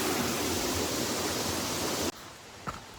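Waterfall in Shenandoah National Park, a loud continuous rush of falling water that cuts off abruptly after about two seconds, leaving quiet outdoor ambience and a faint knock.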